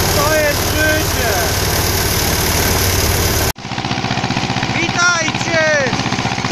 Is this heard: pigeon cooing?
no